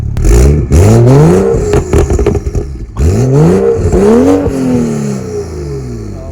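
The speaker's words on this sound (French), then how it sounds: "On entend le turbo tourner à l'intérieur du pot d'échappement, c'est un truc de fou." A tuned BMW M235i on its original exhaust line revs hard and close, the engine rising and falling through repeated throttle blips with a whirring turbo audible inside the exhaust, loud throughout.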